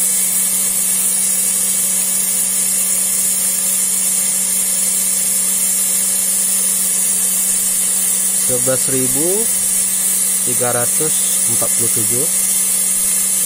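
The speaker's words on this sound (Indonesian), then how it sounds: "Oke, ini maksimal dari motornya." A low-price spindle motor with a low-EMI speed control running at maximum speed, giving a loud, constant high-pitched whine throughout, with someone speaking briefly over it near the end.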